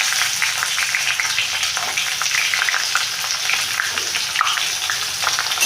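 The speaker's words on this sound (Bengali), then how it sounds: "এবার পেঁয়াজ কুচি দিয়ে দিলাম।" Chopped onions hit hot oil already seasoned with five-spice, bay leaf and slit green chillies, producing a loud, continuous close-up sizzle with a faint crackling texture throughout.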